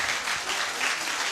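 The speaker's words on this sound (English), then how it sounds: "The clapping is good, but please limit it so that we can make progress." A student audience at a university presidential vetting event claps in a brief, loud, steady burst of applause.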